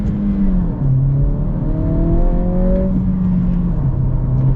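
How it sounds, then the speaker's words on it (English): A 2023 Acura Integra A-Spec with a manual gearbox accelerating, its engine note climbing steadily in pitch with a rising whir, then dropping after a shift and building again, close and loud throughout. "Now we're gonna get our acceleration here."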